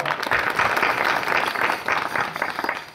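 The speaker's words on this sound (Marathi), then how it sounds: "आपण एकदा टाळ्या वाजवून स्वागत करूया" Steady applause from a kirtan audience welcoming the singers and musicians, a dense, continuous clapping from a crowd that holds loud for about three seconds before easing slightly at the end.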